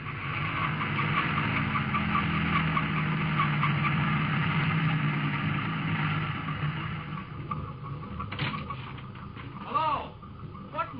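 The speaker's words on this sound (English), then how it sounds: "Standing in the glare of the headlights of an approaching truck" A truck drives along a highway at night in a radio drama, its engine rumble loud and steady before fading, with brief swooshing sounds near the end.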